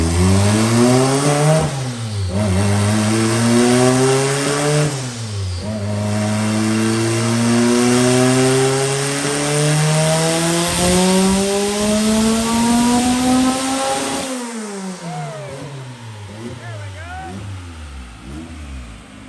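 A tuned turbocharged car engine revs hard several times in a test rip, the pitch climbing and falling in repeated surges before a long rising pull and a sudden cutoff, loud and close.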